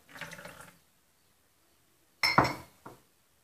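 Warm milk and oil poured into a mixing bowl, two short splashing pours separated by silence, close and clear, with faint clinks of the container.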